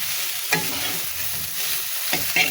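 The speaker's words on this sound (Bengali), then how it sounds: "এখানে আলু আর কলা খুব সুন্দর করে ভেজে নিলাম" Potatoes and bitter gourd fry in a pan with a steady close sizzle, broken by two or three sharp scraping stirs from a spatula.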